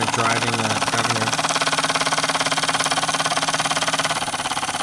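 A Wilesco D10 toy steam engine runs nearby with a fast, even chuffing rhythm and a belt-driven governor turning, while someone talks over it at the start.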